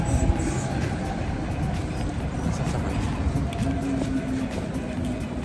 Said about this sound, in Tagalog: Mabilis yung train yun.